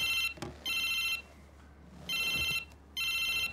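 A phone rings through a loudspeaker during a call in a Hindi-dubbed South Indian movie, with three electronic ringtone bursts in a regular pattern separated by short pauses. Faint background noise fills the gaps.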